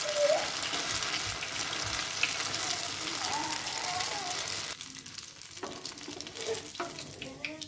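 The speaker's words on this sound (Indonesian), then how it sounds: "Ini aku cuma menggoreng 3 buat contoh aja." Oil sizzles and crackles steadily as chicken sempol snacks fry, a dense hissing bed that thins out partway through with scattered pops and clinks.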